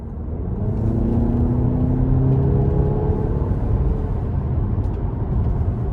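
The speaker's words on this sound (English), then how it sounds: "these 20-inch wheels are just a tad loud coming down the road here" Steady, loud road noise and low drivetrain rumble from a 2024 Cadillac XT4 Premium Luxury on 20-inch wheels, cruising down the road with a constant whirring hum throughout and no talking.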